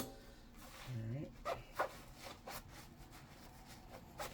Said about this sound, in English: if you want, you can just scrub it a bit more